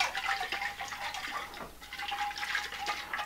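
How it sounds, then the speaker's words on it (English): Alum and water shaken in a mason jar while preparing a cochineal dye bath for natural yarn dyeing: a continuous sloshing, rattling liquid sound, close and steady with rhythmic surges. "I just put it in a mason jar and shake it up"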